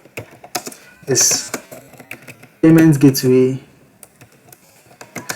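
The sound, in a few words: typing on a computer keyboard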